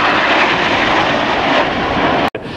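Frecce Tricolore aerobatic jets flying in formation at an air display, a loud, steady, close engine roar filling the whole stretch before cutting off abruptly near the end.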